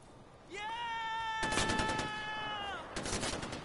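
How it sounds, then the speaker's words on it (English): Rapid gunfire in the video game Far Cry 4, two dense bursts of loud popping shots following a long, bleating animal-like cry, with a voice underneath. "I can't hear you over the crazy bullets going in the air."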